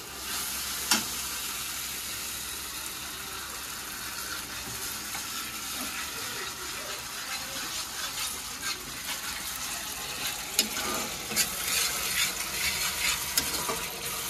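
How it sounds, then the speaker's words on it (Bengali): Cumin spice paste fries in a pan with a little water added, giving a steady soft sizzle broken by occasional stirring scrapes and spoon taps, faint and close, with no voices. "ওই জল দিয়ে এবার মশলাটাকে একটু কষাবো।"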